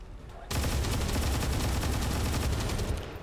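Rapid automatic gunfire at an officer in XCOM 2 Long War 2 video game, a loud dense volley that starts abruptly and rattles continuously for nearly three seconds before tapering.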